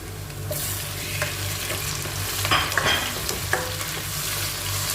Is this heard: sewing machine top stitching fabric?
no